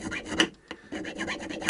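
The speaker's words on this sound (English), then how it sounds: "it will be on to filing these to length exactly" Guitar frets being filed to length on a Vintage V100 during a re-fret, a rapid series of short rasping strokes with a brief pause midway, close and clear.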